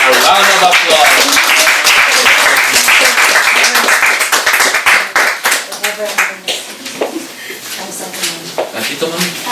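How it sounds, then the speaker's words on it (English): A group at a Christian family talk gives a round of applause, loud close-up clapping that starts dense and thins into scattered individual claps, with people talking over it. "So let's give her a round of applause."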